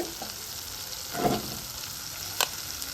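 Raw mango pickle sizzling faintly in a pan with the stove just turned off, soft crackle rising briefly in the middle and a short sharp clink near the end.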